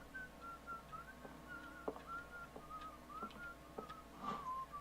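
A person whistles a wandering tune while playing Call of Cthulhu, the faint melodic notes running steadily across a quiet room tone with a few soft clicks.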